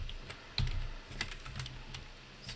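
Computer keyboard typing during a programming session, several quick, quiet key taps in irregular bursts with a slightly heavier press partway through, close and soft over low room hum.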